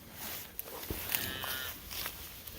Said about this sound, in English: That's a fall calving cow.